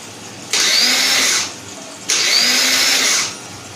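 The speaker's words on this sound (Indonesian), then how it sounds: "Apa dinamo starternya muter, tapi kayak ada yang nggak nyangkut gitu" Yamaha Jupiter Z motorcycle starter motor spinning without engaging, with the battery at 13.0 volts: two close, loud whirring bursts of about a second each, separated by a short pause, with no talking.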